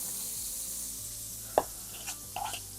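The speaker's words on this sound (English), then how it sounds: "We're going to saute them until they're nice and tender." Thinly sliced onions sauté in a pan with a soft, faint sizzle, broken by a sharp utensil clack and a few quieter stirring scrapes.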